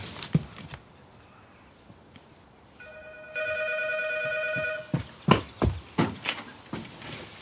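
Telephone ringing inside a car in a Swedish short drama, a steady electronic ring tone holding about a second and a half before stopping, with scattered footsteps and knocks before and after.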